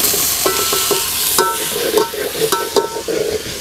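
Tomatoes with ginger garlic paste sautéing in a pan for mutton biryani, hissing steadily under a run of sharp spoon scrapes and clinks against the metal, close and loud with no talk.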